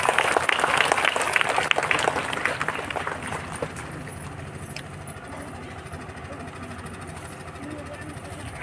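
Crowd clapping at a parish jubilee celebration in Ambapani, dense and loud at first, then thinning and fading after about four seconds, with voices murmuring throughout.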